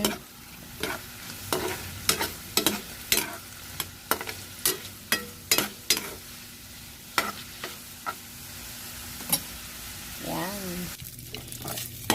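Spatula strokes scrape and clatter through a pan of adobong sitaw with pork as it fries, about a dozen sharp, fairly close knocks at an uneven rhythm over a steady low sizzle, with no talking.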